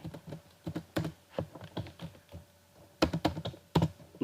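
Keys tapped on a computer keyboard while entering a date into Marg pharmacy billing software, irregular clusters of close, quiet clicks with short pauses and no talk.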